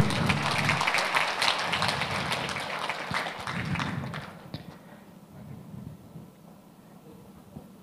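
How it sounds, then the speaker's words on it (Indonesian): An audience at a leadership and economic outlook event claps in a dense, sustained round of applause that tapers off after about four seconds, leaving a quieter room. "boleh berikan tepuk tangan sekali lagi Bapak Ibu"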